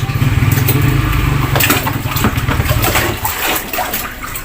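Water poured over a person bathing outdoors in the province, without a shower, rushes and splashes loudly and continuously close by, easing slightly toward the end, with no talk.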